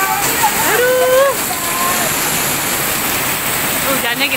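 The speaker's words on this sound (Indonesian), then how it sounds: "Hujannya gede banget nih," Heavy rain pours steadily during a Jakarta flood, a loud, dense wash of water that fills the whole scene while voices speak over it close by.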